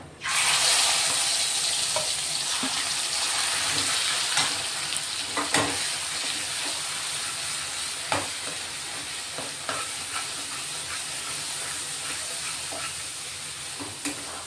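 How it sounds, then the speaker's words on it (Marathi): Ground masala paste fries in hot oil with a pinch of asafoetida for a moth bean curry made with black masala. A loud, close, continuous sizzle carries on throughout, dotted with scattered spoon scrapes and taps as the paste is stirred. "तेल सुटेपर्यंत आपण हा मसाला ना परतून घेणार आहे"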